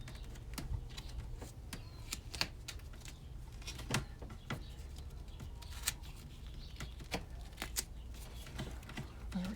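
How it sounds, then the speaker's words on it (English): Tape being pulled and wrapped to join two water line tubes in a pop-up camper, a faint, close run of sharp little crackles and ticks at an uneven pace, with no talk. "So I'll just tape these together."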